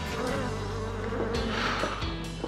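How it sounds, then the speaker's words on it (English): A large mosquito buzzing nearby, its steady drone holding under a broad constant hum with a few sharper rises, no talk. "That was a big mosquito."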